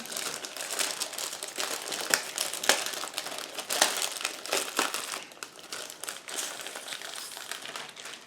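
Plastic wrapping crinkles and crackles continuously at close range as an Academy 1/72 F-86E Sabre model kit is unwrapped, with busy rustling and a few sharper crunches throughout.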